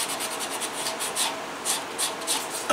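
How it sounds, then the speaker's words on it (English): The edge of a leather holster is burnished with quick, repeated rubbing strokes, a soft, close, rhythmic friction sound with no speech. "Now this, all this needs now is some burnishing."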